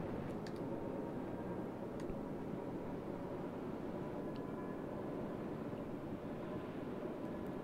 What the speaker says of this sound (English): Torpedo bombers out and about there.